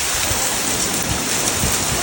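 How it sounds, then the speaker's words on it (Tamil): A hailstorm falls in an American desert as a dense, loud, unbroken hiss of pelting ice and rain close by, with no clear voices over it. "ஆலங்கட்டி மழை பெய்யுது திருப்பியும்."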